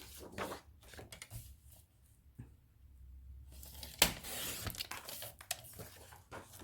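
Scissors cutting paper scraps for a scrapbook photo album, heard as soft, close crinkling and snipping sounds with a louder sharp snip midway, in a quiet room.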